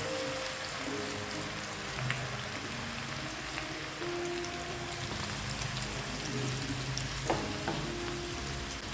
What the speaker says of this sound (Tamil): இப்போ நம்ம மிக்ஸ் பண்ணி வச்சுருந்த மாவை உதுத்து விட்டாப்பில் போட்டு நல்லா கிறிஸ்பியாக பொரிச்சு எடுத்துடலாம்